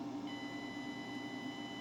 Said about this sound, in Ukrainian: Чуємо, як інвертор пищить, загорається червоний індикатор і помилочка на дисплеї F90.